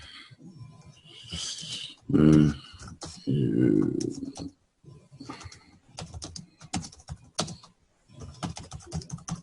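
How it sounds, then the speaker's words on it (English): Keys clatter in irregular bursts of typing, close and fairly crisp, interrupted by a couple of brief voiced sounds and short pauses. "Pardon my slow typing"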